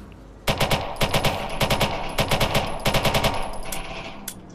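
Loud automatic gunfire from the video game Watch Dogs 2, fired in several rapid bursts of shots separated by short pauses, then stopping abruptly near the end.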